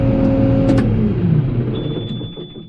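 A New Holland tractor engine runs up close and loud on a farm during hay baling, a steady low mechanical drone that gradually winds down and fades toward the end.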